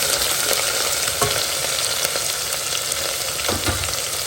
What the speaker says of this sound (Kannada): ಕಟ್ ಮಾಡ್ಕೊಂಡಂಥ ಈರುಳ್ಳಿಯನ್ನು ಹಾಕ್ಕೊಳ್ತೀನಿ ಮೊದಲು ಸ್ವಲ್ಪ ಹುರ್ಕೊಳ್ಳೋಣ ಈರುಳ್ಳಿ ಹಾಕ್ಕೊಂಡು